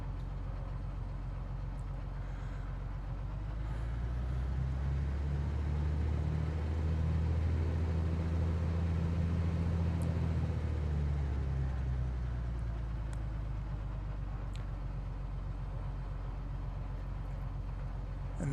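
Aircraft taxiing on the ground in Microsoft Flight Simulator 2020: a steady low engine drone and rumble that swells slightly through the middle and then eases, with no talk.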